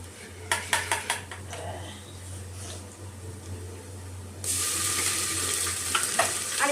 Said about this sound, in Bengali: এবার আমি সামান্য পরিমাণ আদা রসুনের পেস্ট দিয়ে দেবো